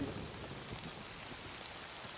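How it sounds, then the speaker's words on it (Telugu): Steady rainfall hisses evenly throughout, a dense wash of drops close by with no voices. "అయ్యో, ఏ వర్షం"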